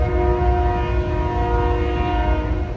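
A train rumbles past close by, with steady, sustained horn-like tones ringing over the low rolling noise.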